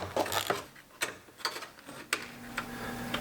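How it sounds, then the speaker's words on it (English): A 9mm socket wrench ratchets on a bolt of a Chevrolet Silverado rear bumper, giving a quick irregular series of clicks and ticks, close and fairly faint. "Using a 9mm socket to get that in there"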